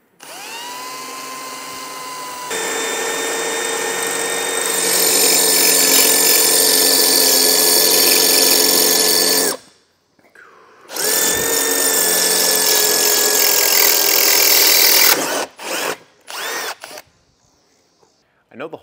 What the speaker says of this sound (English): So if it feels like you're drilling forever, just keep checking it.